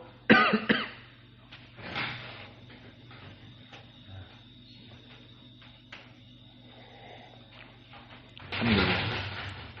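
A sharp cough bursts out at the start, a softer one follows, and another rough coughing fit comes near the end amid quiet room noise.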